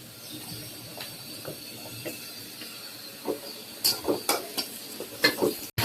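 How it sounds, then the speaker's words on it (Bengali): Spice paste fries in a pan for poa fish bhuna, a faint sizzle under clustered scraping and clinking stirring strokes that grow louder toward the end. "তো পোয়া মাছের জন্য এই যে মশলা কষানো হচ্ছে, এটা পোয়া মাছ ভুনা করা হবে"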